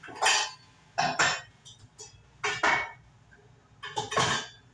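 A metal lid clatters onto a pot of cooking vegan chickpea curry with coconut milk, in four or five sharp clanks and clinks spread out as the cover is found and set in place.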